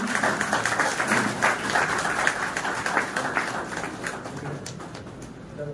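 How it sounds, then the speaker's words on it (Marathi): Loud, sustained applause from an audience at a journalists' day honouring ceremony, dense clapping that holds steady and then thins out toward the end. "जोरदार टाळ्या वाजवते"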